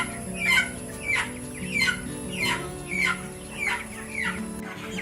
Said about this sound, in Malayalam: ഇത് നമ്മുടെ 27 ദിവസം പ്രായമുള്ള കോഴിയാണ്